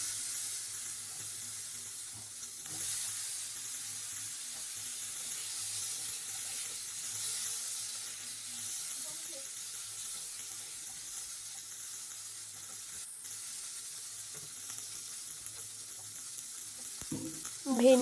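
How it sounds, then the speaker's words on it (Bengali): Okra and pumpkin pieces fry in hot mustard oil with dried red chillies and five-spice seeds, sizzling in a steady, gentle hiss that runs on continuously, with a brief stirring clatter at the end. "ভেন্ডি আর কুমড়োটা হালকা ভাজা হতে থাক"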